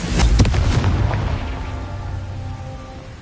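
A single heavy Confringo blasting-spell explosion from a Harry Potter video game booms loudly at the start, then rumbles and fades slowly over the next few seconds.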